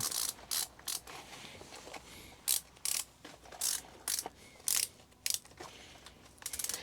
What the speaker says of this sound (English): And then cinch up that top buckle.